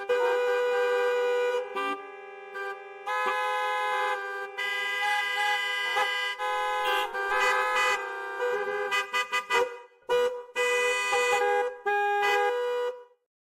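Busy street traffic with several car and truck horns honking repeatedly, overlapping toots and longer blasts that carry loud and steady for most of the stretch, then break into shorter bursts near the end.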